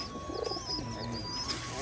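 Pigeons cooing while feeding and drinking at home: soft, close low coos under a faint steady hum, with a few higher chirps overhead.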